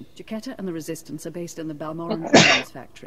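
A sneeze bursts out at the end of a character's spoken line in the video game SWTOR, sharp and close, following steady talk.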